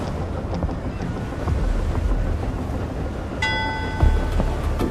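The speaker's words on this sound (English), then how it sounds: "I can ring the bell, you guys." Ship's bell in the sailing game Seafarer: The Ship Sim rings once with a clear metallic tone late in the clip, over a constant bed of wind, waves and creaking boat ambience.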